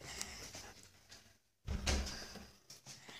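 A very large front door of a house opens with a broad low thud and rumble after a brief pause, followed by rustling and scraping, close and fairly loud, with no one speaking.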